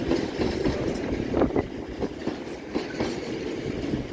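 A British Rail Class 66 freight locomotive hauling a freight train through Peterborough, a steady rumbling drone with rhythmic wheel clatter at moderate distance, continuous over several seconds without talk.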